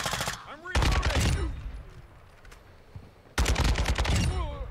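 Bursts of SPR rifle gunfire in a Call of Duty match, loud, close shots in two clusters separated by a quieter gap, with voices talking over the firing.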